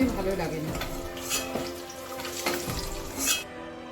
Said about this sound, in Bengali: ডিমগুলো হালকা করে ভাজা করে নিয়ে তুলে নিচ্ছি